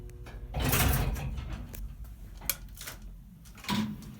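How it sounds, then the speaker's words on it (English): An antique Haughton traction elevator's self-closing gate slides shut in an apartment building, giving a muffled rolling rush with a few mechanical clicks and a final clunk, all at moderate distance. "The gate does self-close."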